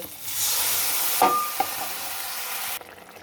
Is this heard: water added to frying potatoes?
yes